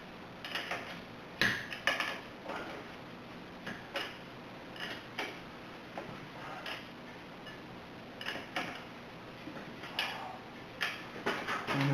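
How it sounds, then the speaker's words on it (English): A ratchet turns a castle nut down onto a Toyota Highlander lower ball joint stem, making a quiet, uneven series of close ticks and clicks separated by short pauses. "now we're just going to turn this castle nut to torque the ball joint stem down"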